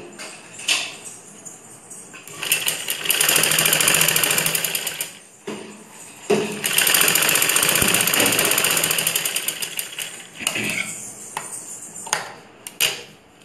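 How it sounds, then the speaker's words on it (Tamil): A sewing machine runs in two long bursts while stitching a seam on a ladies' blouse, with a loud, steady rattling hum, brief pauses, and short stop-start runs toward the end. "இன்னொரு தையல் போட்டுருவோம்"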